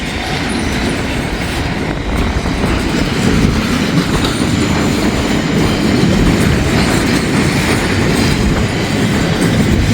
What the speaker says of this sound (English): this is one long train.